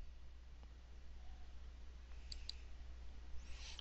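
Two quick, faint computer mouse clicks sound close together over a quiet background hiss.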